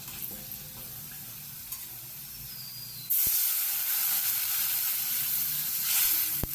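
Water poured into a pan of fried potatoes with turmeric for a hilsa fish curry, quiet low frying that bursts suddenly into a loud, sustained hissing sizzle halfway through, close up with no talking.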